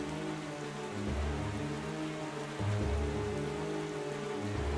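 Steady rain falling in the video game Zelda Wind Waker, a dense even hiss with low rumbling swells underneath, no voices.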